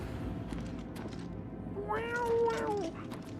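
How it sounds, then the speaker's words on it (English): A single drawn-out cat meow, rising then falling, heard over a low background of game sound and faint voice, mid-distance and moderately loud. "That's how cats be sounding, you know?"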